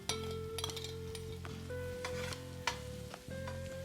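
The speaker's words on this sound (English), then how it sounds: "So now we're going to saute these in there." About four cups of cremini mushrooms sauté in a pan for pork marsala, a continuous sizzle broken by repeated clinks and scrapes of a utensil stirring against the pan, with a steady low hum running underneath.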